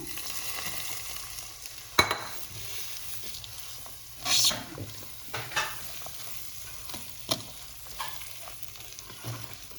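Carrot halwa (gajar ka halwa with khoya) stirred in a pan with ghee, giving a soft steady sizzle broken by scraping spoon strokes and occasional louder clinks, with no talk.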